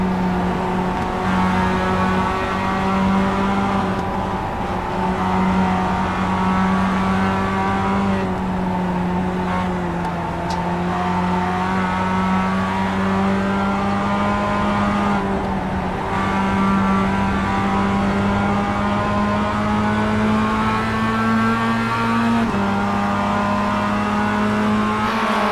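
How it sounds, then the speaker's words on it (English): Onboard Mazda MX-5 race car at Suzuka in a racing game: a steady, loud engine drone that holds one pitch with small shifts and brief lifts. No voices. "have a look at what it looks like to drive on board with one of these MX-5s"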